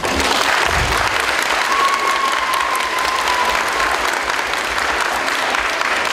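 Dense, sustained audience applause fills a concert hall for young dancers of an aesthetic gymnastics and dance school, loud and continuous with no break.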